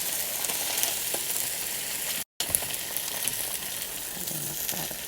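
An omelette frying in a pan after being flipped, a steady close sizzle and hiss that cuts out for a moment and then resumes, with no voices.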